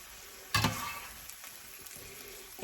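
A sausage and zucchini soup mixture sizzling in a pan, a steady close frying hiss broken by a sharp scrape or stir, then continuing softly.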